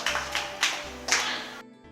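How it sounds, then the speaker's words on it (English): Children in a classroom clap together in three or four short bursts of applause, close and fairly loud, with no talking over it and a sudden cut to silence at the end. "Clap for yourself."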